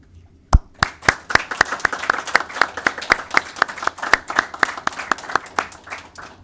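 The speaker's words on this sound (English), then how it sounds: "you guys owe yourself a big round of applause." Sharp, distinct hand claps ring out at a class graduation ceremony, starting with one loud clap and continuing as a quick, fairly regular clapping rhythm close to the microphone, with a softer applause wash underneath.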